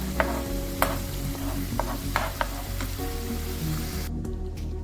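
Curry leaves and fenugreek seeds sizzle and fry in a pan, with a steady crackle broken by occasional sharp clinks of stirring.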